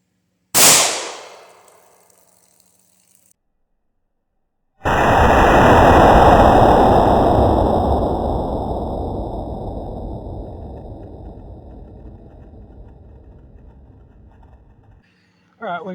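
Two sharp reports from a Palmetto State Armory 5.7 Rock pistol at an outdoor range: a short crack near the start, then a louder blast several seconds later whose noisy tail decays slowly over about ten seconds.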